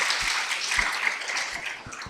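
Audience applause in a religious lecture setting, a short burst of many hands clapping at moderate loudness, fairly dense and fading toward the end.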